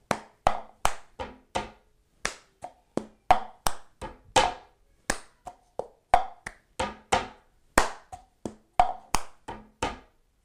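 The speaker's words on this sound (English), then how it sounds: "we clap, we grab the cup, we hit the cup, put it back down, clap" A cup rhythm pattern of hand claps and a cup struck on a hard surface, played solo and close: crisp, evenly spaced hits alternating sharp claps with knocks of the cup, repeating steadily without talk.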